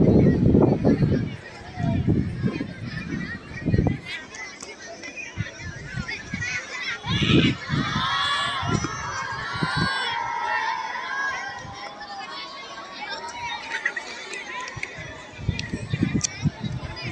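A crowd of students shouts and cheers, rising into excited high-pitched calls midway as a drone flies close overhead, its faint whirring hum above them.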